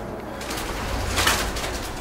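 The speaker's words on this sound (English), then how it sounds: "You're scared of the birds?" Pigeons coo softly inside an abandoned grain elevator, a low, steady murmuring with a slight swell near the middle, no voices.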